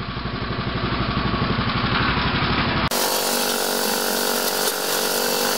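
A concrete mixer engine runs loudly and steadily, its droning tone shifting partway through, with no voices over it.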